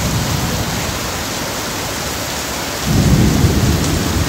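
Heavy rain pours in a dense, steady roar, and a low rumble of thunder rolls in near the end, swelling the downpour for its last second and a half. No one speaks.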